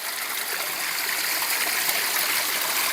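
Water pours steadily from a hillside cave spring, a loud, continuous rushing flow with no break or voices.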